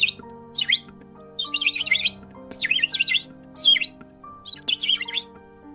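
Birds chirping and singing nearby in a series of bright, rapid warbling phrases separated by short pauses, over a low steady hum.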